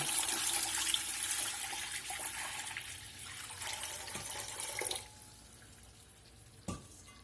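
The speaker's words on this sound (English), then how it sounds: "Let's go ahead and get some water in here." Water runs from a tap into a pressure canner for canning quarts of ground beef, a steady splashing and filling sound that fades after about five seconds, with a brief clink near the end and no talking.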